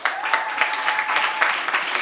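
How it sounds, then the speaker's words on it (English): Audience at a national secondary schools moot court competition in Uganda applauding the judges, a dense, steady crowd clapping that fills the whole moment, fairly loud and even. "I want us to clap for all our amazing judges"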